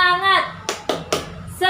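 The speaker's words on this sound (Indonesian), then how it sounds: "Tepuk semangat." A class claps hands in rhythm, three sharp, evenly spaced claps set between chanted group voices.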